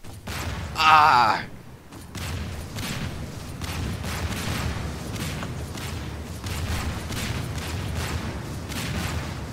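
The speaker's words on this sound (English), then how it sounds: "I have airstrike coming!" Airstrike explosions in Garry's Mod: a loud burst near the start, then a steady rumbling barrage of blasts and thuds, with shouted voices over the top.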